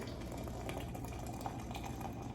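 Boiling water poured into a teapot for a garden herb cold and flu tea, a steady soft rushing and bubbling, faint and continuous throughout.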